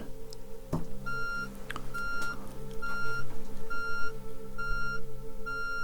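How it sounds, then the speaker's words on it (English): A run of six short electronic beeps at a steady pace, clear and fairly close, over a low rumbling background. "count the number of beeps and tell me total number of beeps that you hear"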